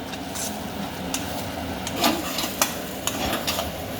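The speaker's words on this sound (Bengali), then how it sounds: "এই মিশ্রণটা তেলের মধ্যে দিয়ে দিয়েছি এটা নাড়ি করতে থাকবো" A thick dhoka lentil mixture is stirred in hot oil in a wok, with soft scraping and gentle sizzling and a few sharper clinks of the utensil against the pan.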